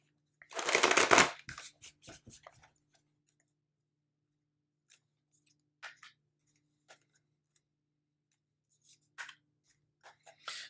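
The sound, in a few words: oracle cards being shuffled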